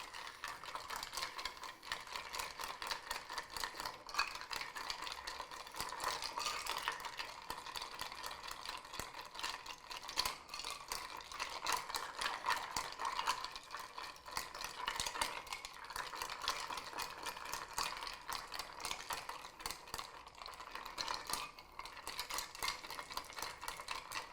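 Ice stirred in a mixing glass for a Martinez cocktail gives a steady, rapid clinking and rattling that runs continuously at moderate loudness.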